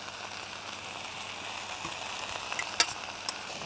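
Chicory and three garlic cloves frying in olive oil in a pan, a soft steady sizzle with occasional small crackles and a sharp tap near the end.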